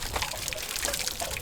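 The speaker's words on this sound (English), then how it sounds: "Ours is a 6-gallon tank, so it takes a little while to drain." Water draining from a 6-gallon RV water heater tank during winterizing, a steady soft splashing trickle heard close and alone throughout.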